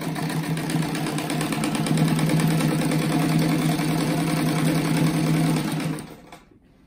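A sewing machine runs steadily as it stitches a fabric pencil-style rug, its fast even whir holding close and loud for about six seconds before stopping abruptly.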